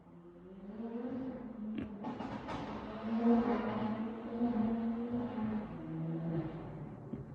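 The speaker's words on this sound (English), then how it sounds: "Someone's got a nice motor car. Nice exhaust anyway." A passing motor car with a loud exhaust makes a steady, throaty drone that swells toward the middle and then eases off as it goes by, with no talking over it.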